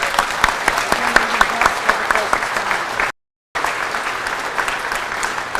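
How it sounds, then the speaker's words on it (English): Audience applause at a public announcement about a paper mill sale: a dense, steady clatter of clapping hands from a sizable crowd, with a brief dropout midway. "And I think that deserves a huge round of applause."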